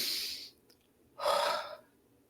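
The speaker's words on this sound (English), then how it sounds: "We're going to do that nice cleansing breath in and out." A deep cleansing breath during a labor breathing exercise, a soft airy exhale followed after a short pause by a louder, fuller breath, close and alone with no talking.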